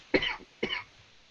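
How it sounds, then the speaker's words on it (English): A coughing fit from a man during a live game session: two sharp, close coughs about half a second apart, alone without talk. "now I put him into a coughing fit."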